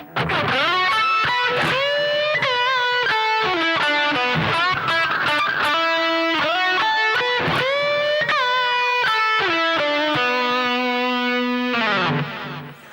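Distorted electric guitar playing a lick with step-and-a-half and whole-step bends, sustained bending notes that glide up in pitch, loud and up front, ending on a held note.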